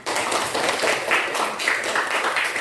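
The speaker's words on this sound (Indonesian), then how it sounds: "Ya, tepuk tangan." A small group claps in steady, fairly even applause for a few seconds, close by and moderately loud.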